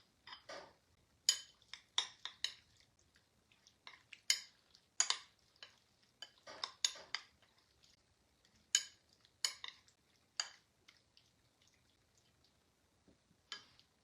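Knife chopping through jumbo shrimp on a cutting board, a run of sharp, clicky cuts in irregular bursts, close and crisp against a quiet kitchen background with no talking.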